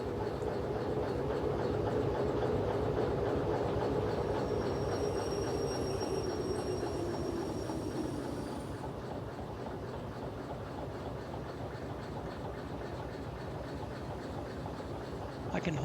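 A locomotive idles and rumbles in the railway simulation game Derail Valley, a steady dense engine drone with a faint high whine that fades partway through and then settles into a quieter, even hum.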